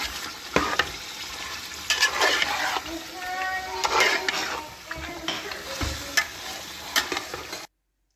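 Chicken with spices being fried and stirred in a pot, a continuous close sizzle with repeated scraping and knocking of a spoon against the metal.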